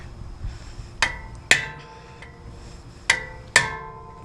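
Four sharp metallic hammer strikes on the wheel bearing hub of a 2014 Honda Pilot, landing in two pairs with a ringing decay, close and loud in a quiet workshop.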